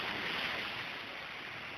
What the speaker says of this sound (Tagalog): sobrang lakas yung alon